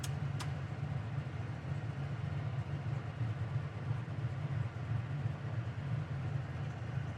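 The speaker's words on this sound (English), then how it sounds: "It's idling about 700 RPM in gear with the air going." A 1970 Chevrolet Chevelle SS big block V8 idling at about 700 RPM in gear with the air conditioning running, a low, steady, faint rumble with an even throb and a brief click near the start.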